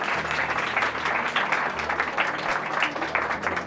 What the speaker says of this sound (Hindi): एक बार जोरदार तालियों से स्वागत करिए